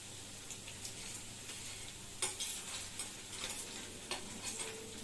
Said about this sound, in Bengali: আমি সুন্দর দু হাতে চপ ভাজছি